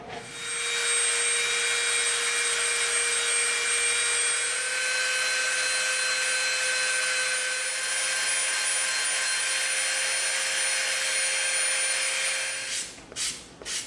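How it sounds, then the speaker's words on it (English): A Dremel rotary tool rounds off the edges of EVA foam for a lightsaber prop, its high steady whine running continuously and close for about thirteen seconds before cutting off, with no talk. "We're gonna get our Dremel out. We're gonna slightly round these edges off."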